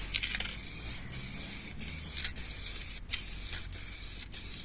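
An aerosol spray paint can hisses in short bursts, broken by brief pauses, as a grille step on a Mercedes Actros MP4 truck is repainted; the spraying is close and steady.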